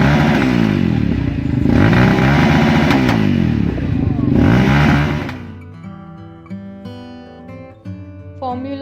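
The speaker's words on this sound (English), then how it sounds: "quad bike," A quad bike engine runs loud and close for about five seconds with rough, throbbing revving, then cuts off into quieter tonal sounds.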